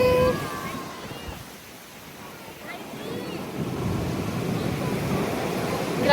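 Ocean surf rolls continuously onto the beach at Pagudpud in North Luzon, a steady broad wash with wind buffeting the microphone and faint voices in the background.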